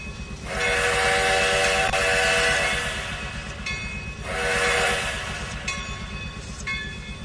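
A steam-era coal train in Trainz 2019 rolls along the rails near a coal chute, with a steady low rumble and clatter, loud rushing bursts, and brief whistle-like tones, heard alone without talk.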